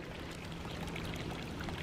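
Water pouring steadily from a watering can onto garden plants at a homestead, a soft continuous splashing stream heard alone at low level.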